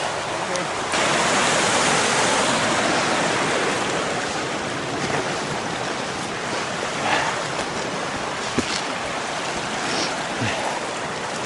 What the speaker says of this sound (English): I think we're going down because I hear water.